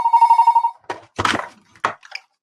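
An ordinary landline telephone rings during a lecture webinar with a clear electronic trill lasting under a second, followed by a few short, sharp thumps and bursts nearby.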